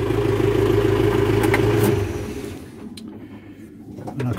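A Landlegend tractor engine runs at a steady, loud idle and then is switched off, its rumble dropping away and giving way to faint clicks and near silence.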